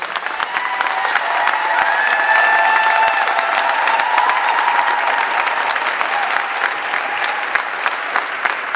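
Sustained, dense applause from an audience at a Rhode Island event on new gun safety laws, steady loud clapping throughout with a few whoops and crowd murmur, welcoming a speaker named Jennifer to the stage.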